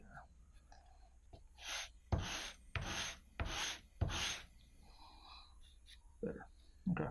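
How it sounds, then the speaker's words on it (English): Model rocket fins being sanded, with several loud, close rasping strokes in a steady back-and-forth rhythm and softer scrapes and breathing before and after. "Fins are sanded adequately."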